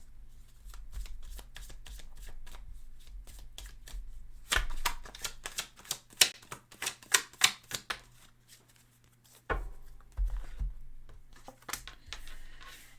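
Tarot cards shuffled by hand in quick riffling bursts, followed by a pause and a card drawn from the deck, close and crisp with no talking.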